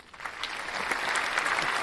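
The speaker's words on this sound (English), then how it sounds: "Round of applause for that." Applause at a podcast recording, a short burst of clapping that builds and holds steady, moderately faint.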